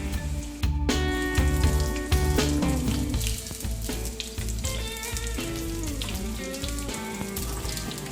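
Southern-style salmon croquettes fry in hot oil in a pan, giving a continuous loud sizzle and crackle, steady throughout with no one talking.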